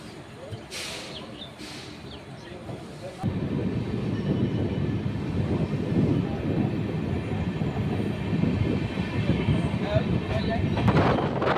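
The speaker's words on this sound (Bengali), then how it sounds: "তো কিছুক্ষণ অপেক্ষা করার পর আমাদের ট্রেন ছাড়লো" The 13125 Sairang Express pulls away on its run from Kolkata toward Krishnanagar, a steady rumble of wheels and carriage noise that swells after a few seconds and holds on, heard from aboard the train.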